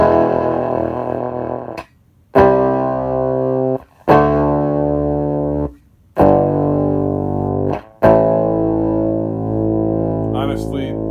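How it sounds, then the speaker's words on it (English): Electric guitar with a clean tone run through a diode into a single speaker, coming out gritty and distorted: sustained chords held for about two seconds each, with sharp silent gaps between strums and a brief high squeal near the end. "this is a clean tone through the diode on this one speaker"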